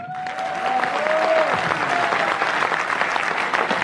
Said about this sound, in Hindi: हर हाथ के द्वारा पड़ोसी के लिए तालियां बजनी चाहिए